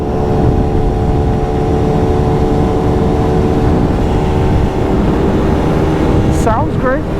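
A motorcycle engine idles steadily up close, a low continuous rumble with a rising rev at the very end.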